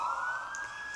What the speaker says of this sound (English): Oh, that noisy siren. Did that noisy siren wake you up?